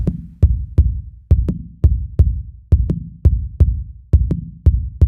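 A filtered drum sample in Ableton, shaped toward a snare, repeats in a steady rhythmic pattern, each strike a dull, muffled thump with a short decay.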